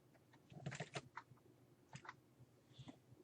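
Short bursts of keyboard typing in a quiet room, a quick cluster of clicky keystrokes followed by a few scattered taps, fairly faint and close.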